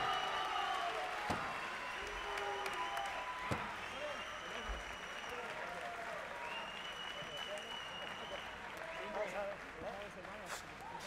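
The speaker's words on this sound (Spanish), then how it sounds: "Pedimos, por favor, un gran aplauso para estos dos competidores que han hecho un pedazo de combate de Muay Thai." A crowd at a Muay Thai fight event in Badalona applauds steadily after the bout. The sustained clapping is fairly distant, with voices heard faintly over it.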